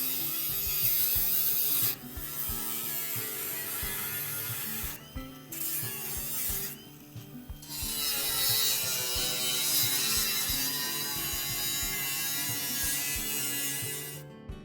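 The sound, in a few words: cutting wheel cutting holes in shipping container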